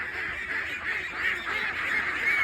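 A flock of domestic ducks eating mung beans keeps up a continuous, overlapping chorus of nasal quacks and honks at moderate volume nearby.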